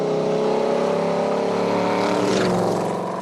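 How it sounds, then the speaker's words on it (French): A Ford Mustang GT 350 with a 380-horsepower engine gives a loud, close, throaty V8 rumble that holds steady and swells slightly, a continuous engine drone with no voices over it. "une Ford Mustang GT 350"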